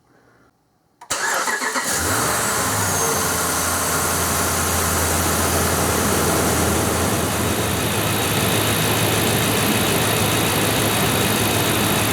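A 5.7L Hemi V8 in a 2010-19 Dodge Ram cranks briefly after a second of quiet, fires, and settles into a steady, loud, even idle for the rest of the clip, with no talking.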